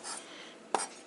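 A single knife chop through vegetables being roughly cut for kimchi on a cutting board, one sharp close hit near the end after a quieter stretch of handling noise.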